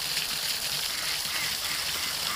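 Water runs steadily from a garden tap or hose in a vegetable garden, a continuous close hiss without breaks and no talking.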